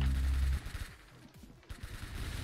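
Gunshots in the Roblox game Arsenal: a quick run of rapid, fairly faint shots follows a low rumble, with the individual reports coming in an uneven rhythm.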